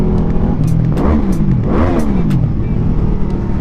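A QJmotor Flash 600 V4 cruiser motorcycle engine revs loudly up and down twice over a steady rumbling idle, heard close up with a deep, continuous drone.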